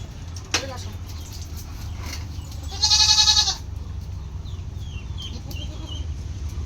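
A goat being bathed, frightened of the water, lets out one loud, shaky bleat midway, heard over a constant low background hum with a few faint knocks and sounds around it.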